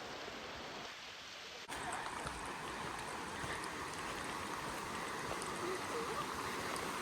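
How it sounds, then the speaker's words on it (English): A steady, broad rush of a waterfall on the Appalachian Trail in spring that swells suddenly and keeps roaring evenly, with faint voices beneath. "Look at that waterfall."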